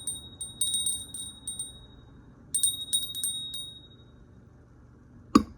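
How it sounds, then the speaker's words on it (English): A small hand bell rings in two bright clusters of repeated strikes, clear and close, with a decaying shimmer between them and a soft thump at the end. "Let's ring the bell."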